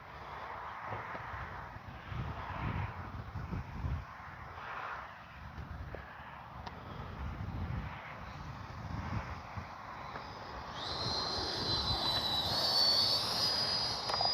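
A Freewing 90mm Zeus RC jet at half throttle makes a faint, steady distant whoosh under gusty wind, then swells into a louder, higher turbine whine as it passes nearer.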